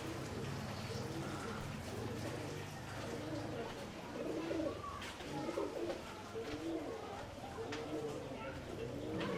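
Several pigeons coo in soft, repeated low phrases nearby in the narrow lanes of old Multan, with a faint patter in the background and voices murmuring at times.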